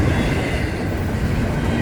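Florida East Coast Railway train rolling past close by, a loud, steady roar of wheels and cars with no pauses, picking up speed just beyond a speed restriction.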